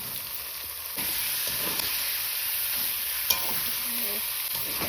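Meat sizzles steadily in fried spice paste in a pan, a close, even hiss broken by a couple of scraping stirs.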